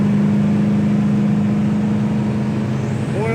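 A 1967 Pontiac GTO cruising at highway speed near 75 mph, its engine holding a loud, steady drone around 2,800 RPM together with road and wind noise inside the car.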